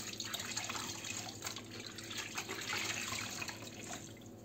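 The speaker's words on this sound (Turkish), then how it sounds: "Şimdi bezimizi tekrar yıkıyoruz." A cleaning cloth rinsed under a running kitchen tap, giving a steady splashing stream with dripping and sloshing throughout.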